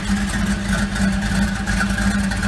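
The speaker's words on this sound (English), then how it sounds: "Now we're idling and running good. See that old 350 running in there." The 350 V8 in a 1972 Chevy C10 pickup idles steadily, a low even rumble with a constant hum and no revving, close and moderately loud with no talk.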